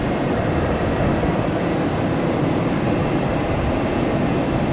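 A Boeing 737-800 jet taking off at Tampa airport gives a loud, steady broadband roar that holds without a break, with no voices over it.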